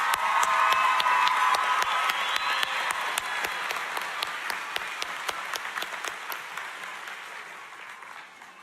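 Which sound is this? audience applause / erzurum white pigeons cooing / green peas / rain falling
audience applause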